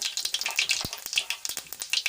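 Rapid crackling and popping of mustard seeds, cumin, dried chillies and other spices sizzling in hot oil, close and continuous with quick sharp pops.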